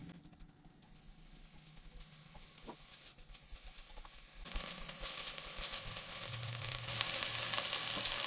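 Onions for chicken soup hit a hot pot and start frying. A quiet background hiss jumps to a louder, steady sizzle partway through, then holds close and crackling.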